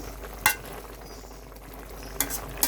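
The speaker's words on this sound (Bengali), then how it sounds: "এবার আবার একটু নাড়াচাড়া করে মিশিয়ে নিচ্ছি" Fish curry with teasel-free jhol of fresh tatkini fish and water lily stems being stirred in a pan, with a low steady simmer underneath and a few sharp spoon scrapes against the metal, one early and two near the end.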